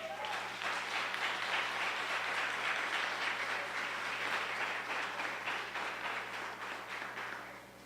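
A church congregation gives a long, warm round of applause, steady and fairly soft at a distance for several seconds before it tapers off.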